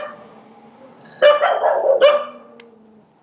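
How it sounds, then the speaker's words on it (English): Two dogs barking up ahead on a street in Siguenza, Spain: a burst of sharp barks at medium distance after a quiet stretch of faint background noise, with no voices. "2 dogs up there."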